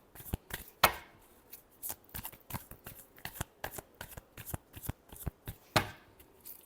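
Tarot cards are shuffled by hand in a quick, uneven series of crisp riffling snaps, some sharper than others, close and fairly quiet, with no talking.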